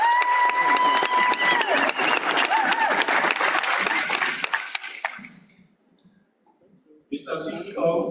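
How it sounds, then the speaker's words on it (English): Audience applause at a STADIO Waterfall spring graduation ceremony: a loud, dense round of clapping with a thin whistle-like tone through it, fading out after about five seconds into near silence before a voice begins speaking. "Let's give them a round of applause."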